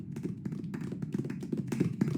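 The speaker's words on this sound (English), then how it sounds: "I just felt kind of awkward, so I hit the clap button." A clap-button applause effect plays in an online audio room: a soft, quick patter of many hand claps, steady and fairly faint, with no voices over it.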